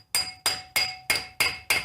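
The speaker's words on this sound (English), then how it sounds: "hammer it in" Hammer blows driving a part into a Toyota axle during a rebuild, six sharp metallic strikes in an even, rapid rhythm, close and loud with no talking.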